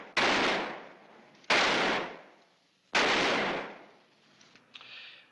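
Three sharp, loud gunshots from a western-style revolver ring out about a second and a half apart, each with a long echoing decay, fired at a hat outdoors, followed by faint movement sounds.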